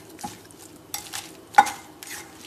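Spoon stirring cauliflower mash in a pot, with soft, wet scraping strokes at an uneven pace and a clink against the pot, close and quiet.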